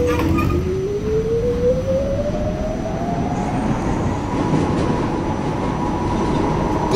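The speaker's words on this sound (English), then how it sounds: "This is a Coney Beach bound D train." A New York City subway D train running, with loud steady rumble and rattling wheels on track and a rising whine of the motors as it speeds up, constant throughout.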